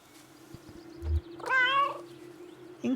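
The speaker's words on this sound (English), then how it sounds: "Oh, there's another cat." A cat in the video game Kentucky Route Zero gives one clear, drawn-out meow in the middle, preceded by a soft thump and followed by a short chirp, over a steady low hum.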